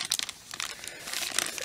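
Plastic foil wrapper of a Match Attax Champions League 2016-17 trading card pack crinkles and tears as it is opened with scissors, a close, quiet series of crisp crackles with no voice.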